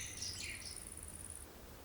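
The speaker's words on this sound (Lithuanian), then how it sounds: "Žiedynuose dūzgia vabzdžių įvairovė" Insects chirr in a meadow with a faint, high, steady trill that stops partway, while soft bird chirps come and go in the background.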